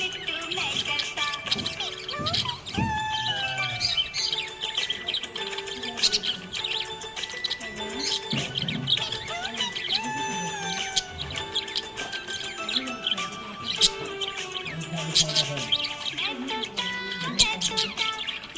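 A happy pet budgie chirps in quick, bright tweets, tangled into a loud, busy song with singing and music that runs throughout.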